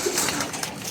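A fancier's pigeons cooing close by in a loft, soft overlapping throaty coos filling the whole moment with a dense background of other birds.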